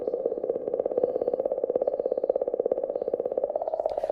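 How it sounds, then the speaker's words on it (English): Sonified magnetic field recording from around Comet 67P, a fluttering, rapidly pulsing warble with a steady buzzy texture, moderately quiet and continuous with no talking. "That's the sound of the magnetic fields around Comet 67P"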